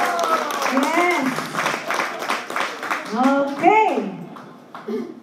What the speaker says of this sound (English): I think they deserve one more hand clap.